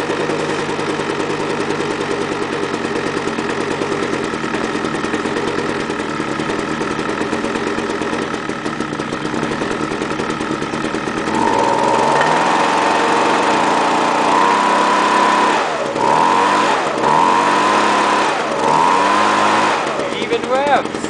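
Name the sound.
cold-started leaf blower or weed whacker engine running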